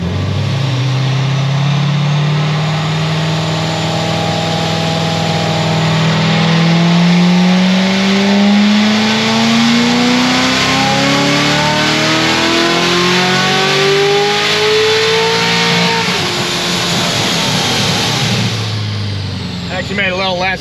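A 1250HP Corvette C7 Z06 with boost pulls hard through the revs, the engine's pitch rising smoothly and loudly over about fifteen seconds before backing off, heard up close with a voice talking briefly.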